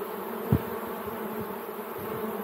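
Honeybees buzz steadily around beehives as they are shaken off combs to be added to other colonies, a continuous low drone with one brief louder thump near the start.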